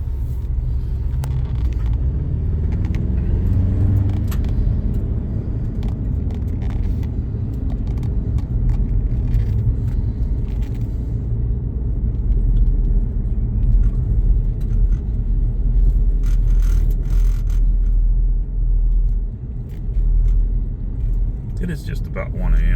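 A Ford Ranger Tremor pickup truck drives in four-wheel drive late at night, its engine and road noise forming a steady, loud low rumble throughout, with small rattles and clicks layered over it.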